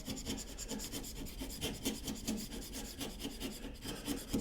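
A chisel pares thin slices from a wooden cross halving joint, giving a steady, close scraping rasp with rhythmic repeated strokes, quiet and continuous without any voices.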